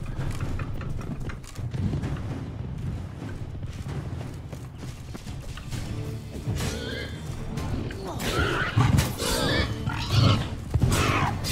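A pig grunts and squeals repeatedly in the video game The Witcher 3: Blood and Wine, mixed in with game effects and music. The grunts grow louder and more frequent toward the end and sound close.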